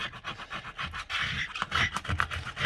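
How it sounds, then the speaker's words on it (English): Tape residue from white eBay tape is scraped off a surface in a bedroom with quick, repeated rasping strokes in a steady back-and-forth rhythm, close and moderately loud, with no talking. "So I'm just gonna keep scraping."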